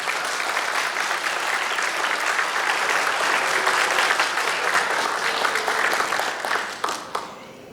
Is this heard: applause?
yes